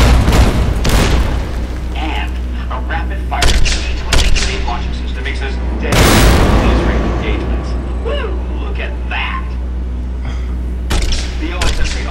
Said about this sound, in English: With the M235 missile launcher, we can engage.